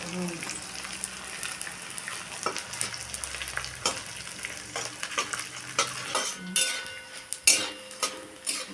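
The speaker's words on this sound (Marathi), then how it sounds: "थोडा थोडा करून भाजणार आहे काय? डिंक फुलायला लागला." Edible gum (dink) roasts and puffs in a pan for homemade laddoos with a soft sizzle and scattered crackles. Spoon scrapes and clinks sound against the pan, and a voice speaks over it.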